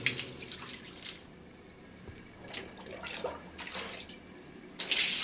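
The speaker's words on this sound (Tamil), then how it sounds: "தண்ணி கொட்டுற சத்தம் கேக்குது." Water runs and pours from a tap somewhere indoors, a soft, hissing stream that swells and fades several times, faint and slightly distant, ending in a louder splash.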